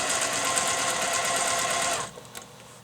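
A sewing machine free-motion quilting a quilt runs with a fast, even mechanical whir up close, then stops abruptly, leaving a few soft clicks.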